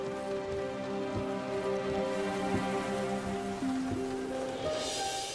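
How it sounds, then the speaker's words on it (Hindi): Steady rain falls with a continuous soft hiss, mixed under sustained tonal music in an action film scene. "ऐसी बारिश हो रही थी उस वक्त भी।"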